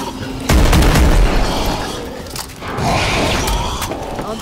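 Grenades explode in a zombies shooter game: a sharp, loud boom at about half a second, then rumbling aftermath and a second burst, close and heavy, with no talking.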